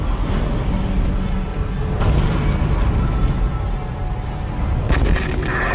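Weapon fire from Dead Space aimed at an armored creature, loud and dense with booming blasts and continuous rumbling impacts, and a sharper burst near the end.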